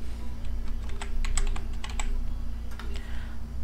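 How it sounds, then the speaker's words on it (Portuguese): Rapid typing on a computer keyboard, a dense run of crisp close key clicks with a low steady hum beneath and no talking. "Aqui você vai digitar o nome do seu atendente."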